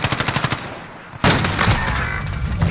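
Automatic fire from a weapon in a shooter video game, a fast even stream of shots that breaks off for a moment and then resumes as a louder, denser burst, close and with no voices over it.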